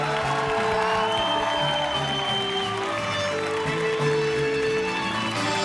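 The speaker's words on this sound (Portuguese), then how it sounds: "E eu queria pedir muitas palmas para essa grande mulher que contou a sua história hoje aqui no nosso Roda da Vida" Studio audience applause for a guest on a Brazilian talk show, dense and steady clapping throughout, with music or voices mixed underneath.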